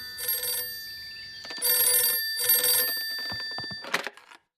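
A cartoon telephone rings in three bright, trilling bursts with short gaps, followed by a few clicks and a shorter electronic chirp as the call connects, with no talk.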